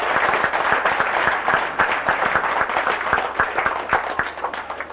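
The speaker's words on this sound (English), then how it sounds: "A big round of applause, please." Applause at a social dinner dance in a hotel, a close crowd clapping with distinct sharp claps over a dense wash, steady throughout.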